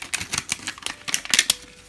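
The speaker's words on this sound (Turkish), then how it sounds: "bu tatlı fermuar gibi açma yerinden açıyoruz" The zipper-like plastic seam of a LOL Surprise doll ball is pulled open in a quick run of sharp, close crackling clicks that grow denser and louder toward the end, with no talking.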